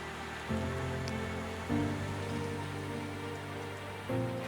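Heavy rain pours steadily onto a surface outdoors at an airfield before a solar aircraft's planned takeoff, a dense continuous hiss with low machine hums beneath, no voices.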